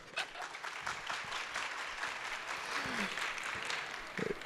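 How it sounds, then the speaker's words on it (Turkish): Audience applause at a book-days talk held by a municipality, sustained crowd clapping filling the room with a few voices mixed in. "Arada bir alkışlayabilirsiniz yani."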